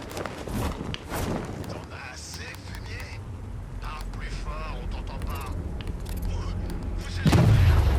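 Explosions of drones blown up with an explosive jet in Batman Arkham Knight, bursts and gunfire-like impacts amid game noise, a heavy low boom near the end, while someone talks over it.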